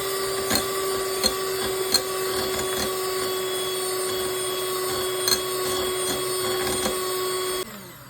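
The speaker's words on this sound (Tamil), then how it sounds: "சேர்த்துட்டு மறுபடியும் ஒரு 1 நிமிஷம் போல் நான் பீட் பண்ணிக்கிறேன்" An electric mixer beats eggs and oil for a walnut date cake batter, a loud steady whirring whine with occasional clicks of the beaters against the bowl, cutting off just before the end.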